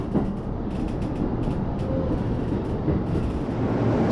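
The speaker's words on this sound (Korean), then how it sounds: "마침 야마노테선과 사이켜선의 열차가 나란히 들어오고 있습니다." JR Yamanote Line and Saikyo Line commuter trains roll into Shibuya Station with a steady, heavy mechanical rumble and clatter, a faint squeal rising briefly midway; no voices.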